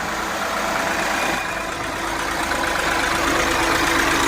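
A Mahindra Bolero diesel engine idles steadily up close, a dense, even clatter with a low rumble and no break throughout.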